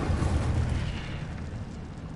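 The Incendio fire spell goes off in Hogwarts Legacy as a rumbling, whooshing burst of flame, loud and dense at first, then easing off over two seconds.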